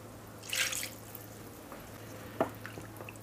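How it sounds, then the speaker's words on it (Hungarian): Water splashes into a cooking pot as a container is rinsed out while making Eszterházy chicken stew, with a brief pour early on and a short splash later, both fairly soft against a steady low hum. "Ezt kiöblítem még bele egy kis vízzel."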